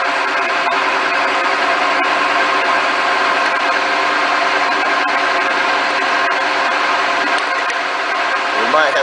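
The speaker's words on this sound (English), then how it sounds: "And we're going to start drilling." A drilling machine in a motorcycle shop runs steadily with an oiled bit, a continuous whining motor hum with faint mechanical chatter, close and constant for the whole stretch.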